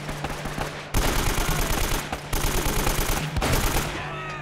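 Rapid automatic gunfire in Uncharted: Drake's Fortune comes in three dense, loud bursts separated by short pauses, harsh and close with no talking.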